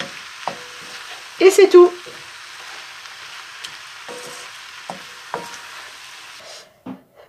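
Vegetarian fried rice being stirred and reheated in a pan, a steady faint sizzle with wooden spoon scrapes and a short burst of clattering stirring, while a voice speaks briefly.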